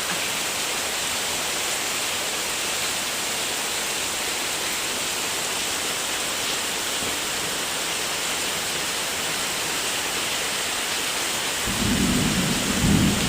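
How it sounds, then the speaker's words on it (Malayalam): Heavy rain pours in a thunderstorm with lightning and wind in Ayiroor, Cherukolpuzha, Pathanamthitta district, a loud steady roar of rain with a deep thunder rumble building near the end. "നല്ല കൊള്ളിയാനും ഇടിയും മിന്നലും ഒക്കെ വരുന്ന കാറ്റുകൊണ്ട്"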